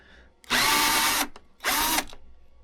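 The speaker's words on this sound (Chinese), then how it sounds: "把另外一颗螺丝啊也卸下来了" A power drill backs a screw out of an old SNS cross-country ski binding, running in two loud bursts of about 0.8 and 0.4 seconds separated by a brief pause, with no talking.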